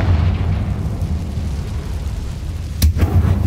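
A Confringo blast spell detonates in a video game set in a closed mine, one sharp burst near the end over a low steady rumble of ambience.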